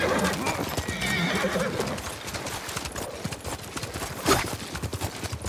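Horses whinny loudly over continuous hoofbeats and clattering in the video game Ghost of Tsushima, with a voice speaking briefly amid the commotion.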